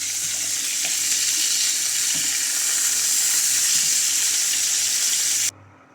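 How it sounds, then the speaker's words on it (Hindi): Marinated tandoori chicken frying in a pan on high flame, with a loud, continuous hiss and crackle that cuts off abruptly near the end. "इस तरह से तेज़ फ्लेम पर फ्राई करने से मसाले चिकन पर अच्छी तरह से चिपक जाएंगे।"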